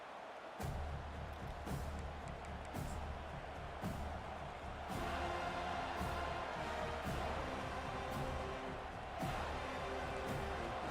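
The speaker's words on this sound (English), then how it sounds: "this crowd is fired up. Listen to this noise here." A distant video game stadium crowd at a college football playoff game roars steadily with periodic sharp thumps, a sustained wash of cheering noise throughout.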